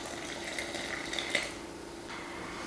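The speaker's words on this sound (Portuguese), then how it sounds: "De água eu coloco 300 gramas" Water is poured steadily into pizza dough ingredients in a home kitchen, a soft continuous trickle with small splashes, fairly quiet and without talk.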